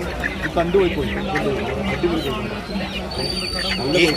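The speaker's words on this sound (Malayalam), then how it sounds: "നാടൻ കോഴി ഉണ്ട് ഫയോമി ഉണ്ട്" Country chickens and Fayoumi chickens cluck and squawk repeatedly close by amid busy Kalpakanchery market, with people talking over the birds.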